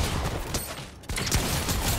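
Gunfire in a Fortnite Zero Build match: a dense, loud fusillade of rapid shots with a brief gap near the middle, then more shooting, with no talk over it.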